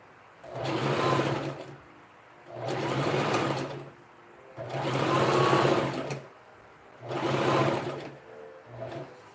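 A sewing machine stitches a princess dart dress in four separate runs, each a close, steady whirring burst lasting about a second and a half, with short quiet pauses between them.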